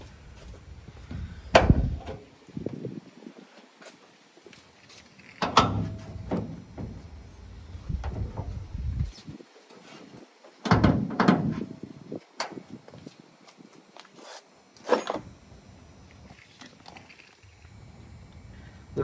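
The hood of a budget K-swapped Honda Civic is lowered and pushed shut several times, giving sharp, near thumps and clunks separated by quiet gaps, along with some faint rattling.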